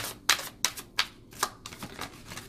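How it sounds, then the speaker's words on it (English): Tarot and oracle cards being shuffled by hand in a rhythmic series of crisp riffling bursts, close and fairly loud, with short pauses between each pass. "You can always fast forward the shuffling."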